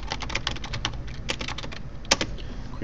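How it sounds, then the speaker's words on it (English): Steady, rapid typing on a computer keyboard during a remote desktop session, a close run of crisp key clacks with one sharper keystroke near the end and no voices. "I can type in here also"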